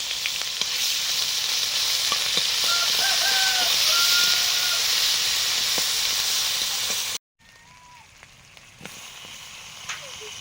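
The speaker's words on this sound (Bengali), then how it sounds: "ফোড়ন দিলাম, শুকনো লঙ্কা, তেজপাতা, পেঁয়াজ বাটা" Dried red chillies, bay leaf and onion paste sizzling in hot oil for tempering a rohu fish curry, a loud continuous frying hiss that drops out briefly, then resumes more quietly.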